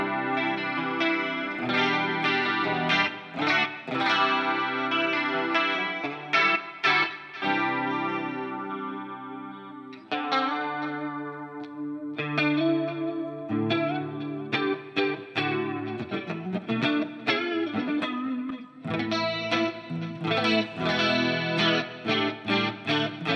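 Electric guitar played through an amp simulator with an ML Sound Lab Greenback 25 and 57 impulse response, a loud close run of strummed chords and picked riffs with a chorus-like, lightly driven tone and brief pauses.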